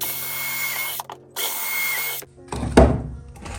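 A power drill drives screws into a 2x4 workbench frame for an L-shaped shed workshop bench, with two sustained whirring bursts separated by a short gap, then a clunk and a brief burst of handling noise.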